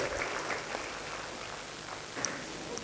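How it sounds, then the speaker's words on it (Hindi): A crowd at a TV service launch event claps, a soft, somewhat distant patter of applause holding steady throughout with a few sharper individual claps. "एक बार जोरदार तालियां चाहिए वंदना जी के लिए"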